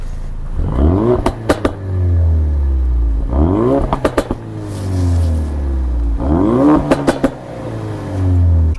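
Ford Focus RS MK3 hot hatch, 350 hp, heard from inside the cabin as the engine revs and accelerates in three strong surges, each rising pull ending with sharp pops and crackles from the exhaust, then dropping back to a low rumble.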